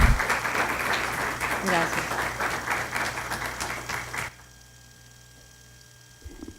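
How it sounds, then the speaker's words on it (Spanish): A university book-launch audience applauds, a dense burst of clapping over a steady mains hum that stops abruptly after about four seconds, leaving low room noise. "un aplauso para ellos y les agradezco."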